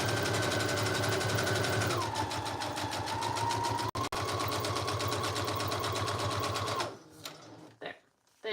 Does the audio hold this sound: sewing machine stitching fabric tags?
yes